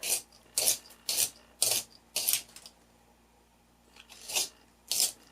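Pencil turned in a handheld sharpener, heard as short rasping scrapes in uneven bursts, close and fairly quiet, with brief silent gaps between strokes and a longer pause midway.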